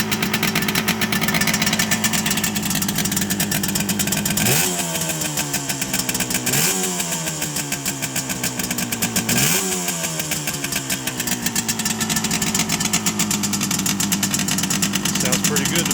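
A 1968 Suzuki T200 Invader motorcycle engine idles steadily and close by with a dense, even pulse, with the throttle blipped briefly three times so the revs rise and fall back.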